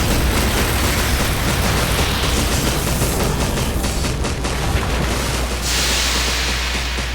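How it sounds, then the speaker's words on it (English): Explosions in Resident Evil REmake, a dense, loud, continuous barrage of booms and crackling blasts filling the whole stretch without letup, with no talking. "Some fireworks just for you"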